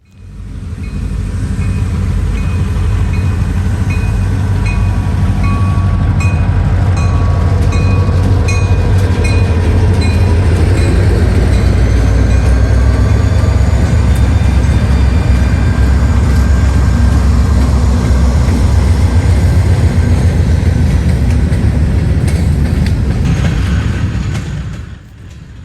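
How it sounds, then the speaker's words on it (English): A loud unit train passes close by, led by I&O and NS locomotives: a heavy low engine rumble, rolling wagon noise with clickety-clack, and faint horn-like tones, sustained throughout before easing off. "This train was a particular nice catch because you don't normally see I&O hooked up with another railroad's power"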